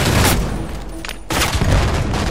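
Sustained burst of gunfire from the Halo 5 Guardians Breakout match, loud broadband crackle with a short lull before firing resumes heavily, no talk.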